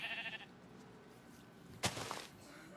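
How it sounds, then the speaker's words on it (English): Sheep bleat in a Minecraft-style survival game, a short bleat at the start and another louder, close bleat near the end over quiet background. "Oh, that's just sheep. Never mind. That's sheep eating."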